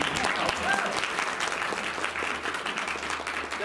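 A convention audience at a furry psychology talk breaks into steady, dense applause that fills the room, holding strong for several seconds before easing slightly toward the end.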